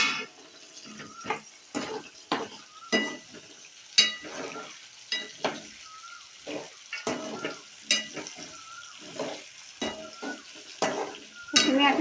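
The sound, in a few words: curry leaves sizzling as they are added to the pan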